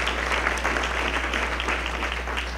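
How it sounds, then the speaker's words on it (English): Audience applause at a National Academy of Education event on teacher preparation programs, a steady, fairly loud roomful of clapping sustained evenly over a low constant hum. "deserve a great big round of applause for the wonderful work."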